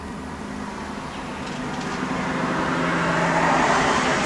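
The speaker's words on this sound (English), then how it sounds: "Car is passing by." A car passes by outside a house door as a steady broadband road hiss. It swells gradually louder over a few seconds without reaching a sharp peak, and no talk is heard.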